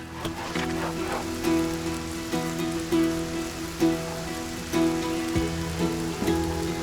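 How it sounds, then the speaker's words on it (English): Rain falls in the Masterplan Tycoon video game, a steady soft patter with scattered drop hits over a looping background music bed, fairly quiet and with no talk. "Rain."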